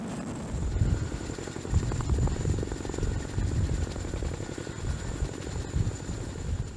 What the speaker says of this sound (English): the pilot will instead place the rear section of the fuselage down while keeping the helicopter hovering.